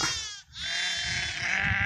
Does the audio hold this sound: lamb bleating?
yes